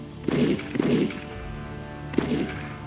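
Three dull, booming gunshots fired at zombies in Roblox Dead Rails, two close together and one after a pause, over a steady low electronic hum.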